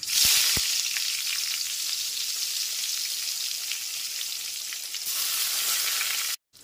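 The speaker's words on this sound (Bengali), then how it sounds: "বেগুনগুলোকে ভেজে নিচ্ছি।" Eggplant pieces coated in salt and turmeric frying in hot oil, a dense steady crackling sizzle close up, loud and continuous, dipping slightly near the end before cutting off abruptly.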